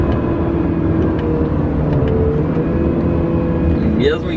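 Honda Civic 10 EXL 2017 with a CVT, its engine accelerating steadily through curves with traction control on, a continuous broadband drone inside the cabin, a brief rising whine near the end.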